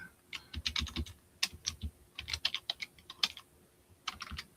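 Computer keyboard keys clatter in quick uneven bursts with short pauses, close and moderately loud, with no talking.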